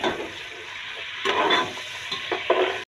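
Fennel seeds frying in oil for jaggery rice, a steady close sizzle with a few louder crackling bursts and stirring scrapes, no voices.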